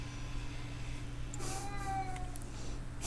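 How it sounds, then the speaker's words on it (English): An elderly cat meows several times at a closed office door, a few drawn-out cries rising above a steady low hum, fairly close but not loud. "So one of our kitties is upset that she can't get into Mom Bear's work office."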